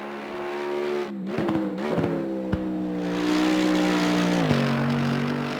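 An AMG EVO GT3 race car in Assetto Corsa Competizione runs at Imola, its engine droning steadily with pitch shifts as it jolts over a curb, sharp thumps and a brief dip in revs marking the kerb strike.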